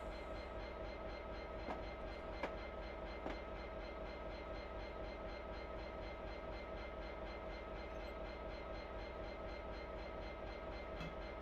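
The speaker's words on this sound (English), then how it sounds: "I'm just easing the train down" A train on the Settle to Carlisle line in a train simulator game eases down toward a stop, its steady, faint mechanical hum running unbroken with a few soft clicks and no voices.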